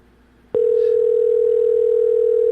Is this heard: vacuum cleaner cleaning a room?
no